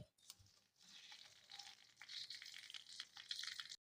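Frozen peas tipped into a hot pan, frying for matar chaat: a bright, steady sizzle with crackling bursts that swells and fades, close and fairly quiet, with no talking.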